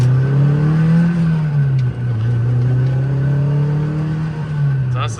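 A Honda S2000 engine drones steadily up close while the car drives along, its low hum wavering slightly in pitch, with a brief dip midway and a faint rattle at the end.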